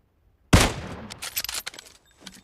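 A sniper rifle shot cracks loudly, close and sudden, in a PUBG Mobile match, followed by a burst of rapid echoing gunfire that trails off after a second, with no voices heard.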